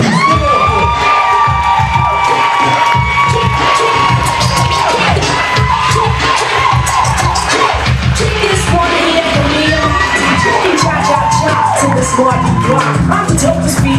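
An audience cheers and claps for the hip-hop performer MasterPiece at a live show in Phoenix, with loud sustained crowd shouting, whoops and applause filling the room continuously.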